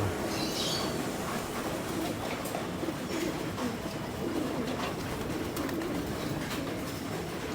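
Racing pigeons in a loft, with soft cooing and wing flutters over a constant background hum and scattered clatter, moderately close.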